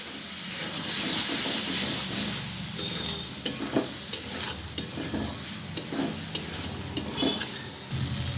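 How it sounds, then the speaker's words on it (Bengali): Tomato paste and spices being sautéed in a pan for a pea and potato ghugni, a steady sizzle broken by regular clinks and scrapes of a spatula stirring the mixture. "এবারে আমি টমেটো বাটাটা দিয়ে দিলাম, দিয়ে আমি এভাবে মশলাটা ভালোভাবে কষিয়ে নেব।"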